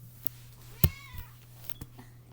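A kitten gives a single short, faint meow close by, with a few soft knocks and rustles in a quiet indoor room.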